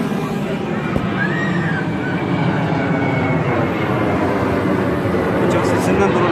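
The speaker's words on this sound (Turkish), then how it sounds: "uçak sesinden duramıyorum." Airplane passing over Düden Park in Antalya, a steady broad roar that fills the whole stretch at constant loudness, with faint crowd chatter and voices mixed underneath.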